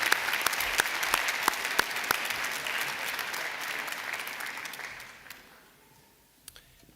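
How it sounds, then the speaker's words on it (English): Graduation audience at the DCU Spring 2026 ceremony clapping in a dense, even burst that holds for about five seconds, then fades out, leaving a few last scattered claps. "We can applaud."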